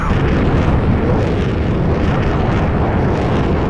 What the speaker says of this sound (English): Hopefully we can launch another missile just as successfully.